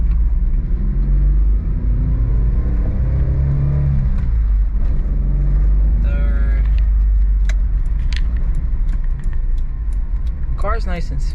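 A Mitsubishi Bravo's engine drones and builds in pitch as it pulls away from second gear, a continuous close rumble with a voice talking briefly over it.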